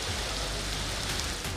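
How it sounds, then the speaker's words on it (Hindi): Heavy, continuous monsoon downpour during severe flooding, a dense steady hiss of rain on surfaces with no voices, fairly quiet and unbroken throughout. "मानसून की मुसलसल मूसलाधार बारिशें"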